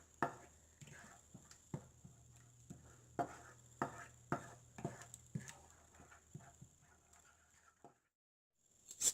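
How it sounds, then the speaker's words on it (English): A spoon stirring a fried onion and tomato mixture in a pan for a spicy broccoli yogurt curry, a run of soft, rhythmic scraping taps, close and quiet, fading out near the end. "Stir it well."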